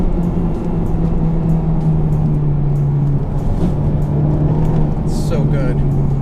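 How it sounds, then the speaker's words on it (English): Honda Civic Type R accelerating hard through second gear with its tires spinning, a steady loud engine drone rising slightly in pitch, close and continuous throughout. "And then spin their tires all through second."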